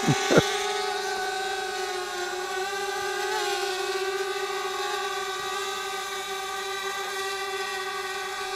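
A GDU O2 sliding-arm drone hovering and descending near the ground, with a steady high-pitched whine of spinning propellers. A brief bump at the start, then a constant, close buzz with no speech.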